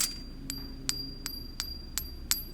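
Six light, evenly spaced taps on a suspected fake coin, each giving a brief, high, thin metallic ring over a quiet background, close and fairly soft.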